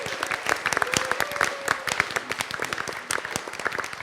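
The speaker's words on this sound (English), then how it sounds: "Round of applause for Alex." A seminar audience gives a round of applause, sharp individual claps rising into a dense, uneven patter that carries on steadily for about four seconds, fairly close.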